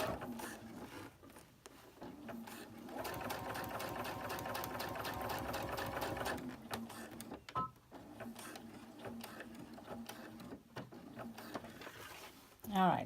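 Sewing machine stitching a red mesh bag with purple thread, running in a steady rapid whir for several seconds, pausing, then resuming with continuous mechanical chatter at close range.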